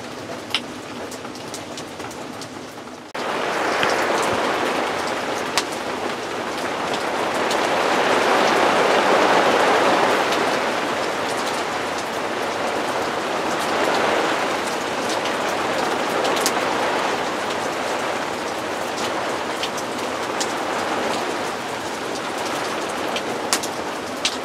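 Steady rain pours down in a dense, continuous hiss, loud and close, with scattered drops pattering on a surface throughout.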